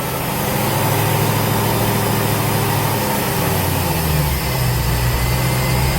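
An untuned project car engine with 60-pound injectors runs steadily without coolant, a continuous loud rumble with a low note that shifts partway through, no voices.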